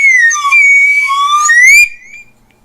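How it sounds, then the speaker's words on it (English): A wooden whistle blown in one sustained, steady shrill tone for almost two seconds. The pitch bends upward briefly at the end before cutting off. It is loud and close, with no other sound. "I might have to give away this whistle"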